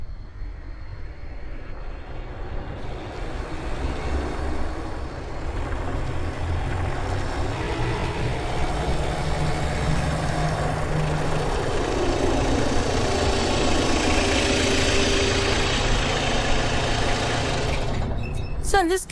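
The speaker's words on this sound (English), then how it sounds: "it's just the sound of a car driving" A car driving, a loud continuous engine and road roar that rises and swells in intensity toward the later part before cutting off abruptly at the end.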